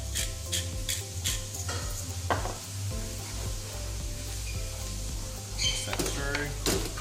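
Pasta bake mixture being stirred in a pan, with soft scraping and clinks of a spoon against cookware over a low background hum and a gentle sizzle, plus brief bits of talk.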